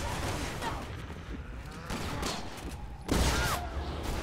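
Rapid gunfire in a Resident Evil game, heard as dense, loud bursts of overlapping shots that swell sharply near the end, with other game noise mixed in.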